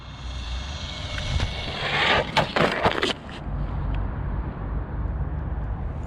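A Wltoys A959-B RC car running on a LiPo battery at full throttle makes a steady, loud rushing whine throughout, with a brief cluster of clattering knocks partway through.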